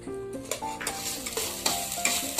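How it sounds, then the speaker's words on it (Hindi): Basmati rice roasting in ghee in a pan for kheer, with steady close sizzling and repeated stirring scrapes, loud and continuous without talk. "बासमती चावल, वो घी में डालेंगे और इनको थोड़ी देर रोस्ट करेंगे 2-3 मिनट के लिए"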